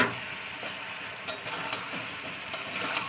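Pumpkin and greens stalks sautéing in a pan, a steady sizzle with a few soft stirring scrapes and clinks, close and moderately loud with no voices.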